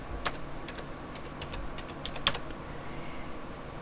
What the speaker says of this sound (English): if I want to search something, I start typing